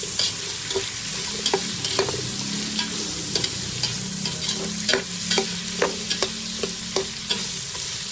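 Bean sprouts and carrot stir-fried for a Chinese-style dish, a steady sizzle broken by repeated sharp scrapes and clacks of a utensil against the pan, close and fairly even throughout.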